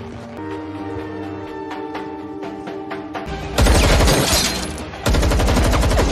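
Film shootout from a bank roof: bursts of loud gunfire break out over a musical score, with dense rapid shots around the middle and another sustained volley near the end.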